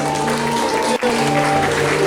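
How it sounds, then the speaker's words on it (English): An audience at a First Holy Communion celebration claps steadily in a dense, continuous wash of applause, with a voice and sustained tones mixed in underneath. "Please give them a big round of applause, ladies and gentlemen."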